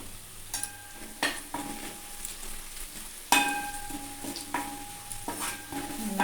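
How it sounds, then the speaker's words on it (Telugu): Leaves fry with turmeric in a pan for an aloo fry, with a soft continuous sizzle and several sharp spatula scrapes and taps against the metal. "ఆకు ఇలా ఫ్రై అవ్వాలండి"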